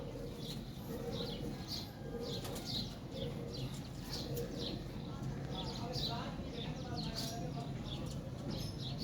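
Kabli pigeons coo in soft, repeated low calls with occasional wing flutters, heard close by while a voice talks in the background.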